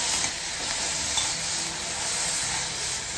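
Chopped onion sautéed without oil in a kadhai with a splash of water, giving a steady, moderately loud sizzling hiss with faint stirring scrapes throughout, no voices.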